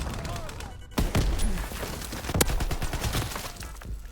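Bursts of gunfire and LMG fire from the video game Call of Duty WWII in a kill confirmed match, with sharp shots and rattling volleys mixed with game noise and a voice talking over it.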